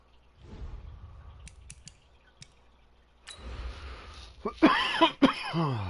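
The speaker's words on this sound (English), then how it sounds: "smoker's cough" Several harsh smoker's coughs near the end, loud and close, after a stretch of quiet rustling and faint clicks.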